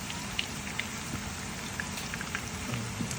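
Sweet potato fries in hot oil with a steady crackling sizzle throughout, with scattered small pops and spits at moderate volume.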